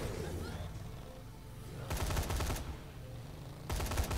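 Guns mounted on a junk bike fire in Dead Rising 3, two dense bursts of rapid gunfire over a rumbling engine-like drone, each lasting under a second, fairly loud and close.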